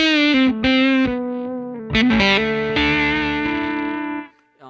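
Sustained electric guitar notes through an Earthquaker Devices Hoof fuzz pedal, thick fuzz distortion, played loud and close, several slides and held chords ringing out before fading.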